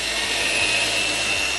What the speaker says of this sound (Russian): Строительный миксер.